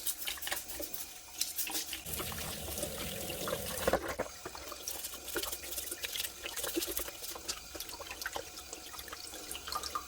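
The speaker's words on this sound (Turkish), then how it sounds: "patateslerimizi tamamen şöyle yıkıyoruz. Toz toprak kalmayacak şekilde kabuklarını iyice temizliyoruz." Potatoes scrubbed clean of soil and grit with a brush under running water in a sink, a busy, continuous splashing and trickling for the whole stretch, with a brief louder burst of water near the middle.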